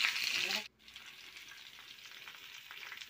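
Potatoes frying in a pan and being stirred, with a loud sizzle that drops away abruptly after about half a second as they are turned, then a quieter steady crackle with faint scraping.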